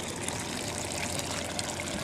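Steady close trickle of hot mineral spring water running from a small spout, an even splashing wash with no voices over it.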